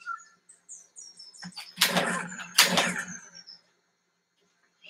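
Arcade-style bird chirps and tweets from the Buck Hunter Pro game, a run of short high calls, followed by two louder bursts, likely flapping or a shot, that fall away into silence.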